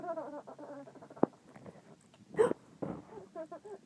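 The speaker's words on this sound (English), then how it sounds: "Do you have the hiccups?" A baby girl hiccups a couple of times, each hiccup a short, sharp catch, mixed in with soft babbling and an adult voice talking gently nearby during a peekaboo game.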